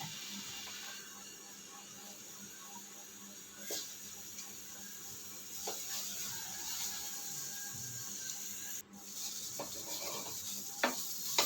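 Ripe banana halves frying in hot ghee in a pan: a steady, soft sizzle with a few light clinks and scrapes of utensils, heard alone without talk.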